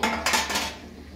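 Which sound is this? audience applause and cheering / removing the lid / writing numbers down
removing the lid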